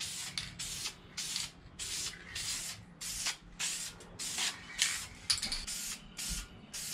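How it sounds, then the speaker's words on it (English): Short bursts from a spray paint can lay a light tint coat onto car tail lights, about a dozen close, loud hissing sprays with brief gaps between them, and no talking. "We're gonna do one light coat on each tail light first."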